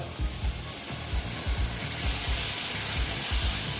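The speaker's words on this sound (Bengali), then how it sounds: "আবার আমি একটু ভেজে নিচ্ছি" Tomato fries in hot oil in a pan for a Bengali-style jackfruit curry: loud, constant sizzling with rapid, regular thuds and scrapes from stirring, close up.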